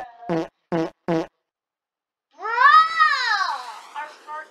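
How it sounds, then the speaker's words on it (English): Cartoonish fart sound effects from a Roblox video game: three short, evenly spaced puffs, a pause, then one long wobbling blast that trails off into a couple of brief blips. "Oh! We're farting!"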